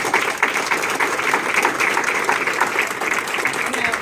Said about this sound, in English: Charlie McCardle. Yeah, give an applause for him.